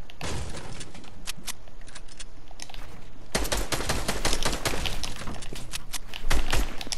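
Rapid video game gunfire, dense volleys of sharp cracks that grow heavier and more continuous partway through, loud and close with no talk over it.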